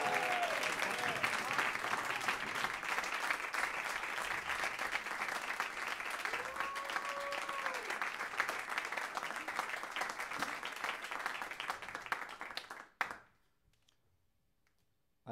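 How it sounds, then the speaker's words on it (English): Sustained applause from a large audience at a senior music recital, dense and steady for several seconds before cutting off abruptly near the end. "I want everybody to give a huge round of applause for Professor Rodney Booth in the back."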